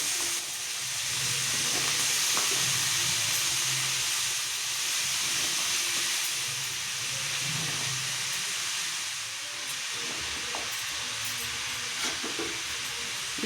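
Finely chopped raw banana sautéing in a hot pan with turmeric, giving a continuous hiss and sizzle with faint scraping and stirring underneath. It is steady and moderately close, with no voices.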